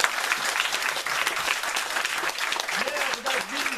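Studio audience applause welcoming guest Nicolas Dumont, mayor of Abbeville, on a CAJ radio show: a thick, even patter of clapping throughout, with a voice briefly breaking through near the end.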